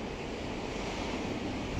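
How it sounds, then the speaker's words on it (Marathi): Sea surf rolls in a steady, wide roar below a private balcony of a guest house near the Somnath temple, with wind buffeting the microphone and no voices. "या प्रायव्हेट बाल्कनीच्या समोर आपण बघितलं तर आपला अथांग निळाशार समुद्र"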